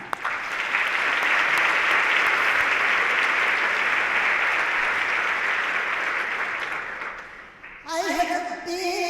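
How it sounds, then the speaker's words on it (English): A large audience at a nursing education conference's opening session breaks into steady, sustained applause lasting several seconds, then it fades and a voice begins speaking over the tail end. "I want to thank and applaud them."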